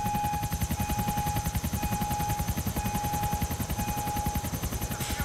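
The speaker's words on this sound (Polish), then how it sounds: "No tak, wrócił się helikopter." Helicopter in GTA IV: The Lost and Damned, its rotor thumping in a fast even rhythm, loud and continuous near overhead, with a thin steady whine riding above the beat and no talk.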